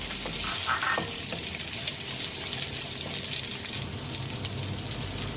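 Sliced onion going into a pan where garlic and green chilies are already frying, giving a steady broadband sizzle with a few brief stirring clatters and no voices.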